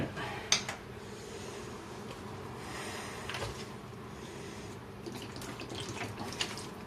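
Standing water mixed with dechlorinator and a little liquid feed is poured onto houseplants, giving a steady, close trickle and splash that runs unbroken for several seconds, with a few brief sharper splashes.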